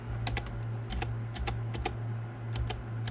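Computer keyboard typing in several quick bursts of clicky keystrokes, close and clear over a steady low electrical hum, with no voices.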